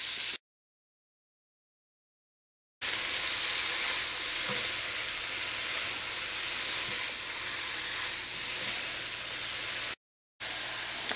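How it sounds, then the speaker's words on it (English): Vegetables for chow mein cook in a pan with a steady, even sizzle, broken by two stretches of silence, with faint clinks of stirring now and then. "you're going to let this cook in here until those vegetables start to get slightly tender"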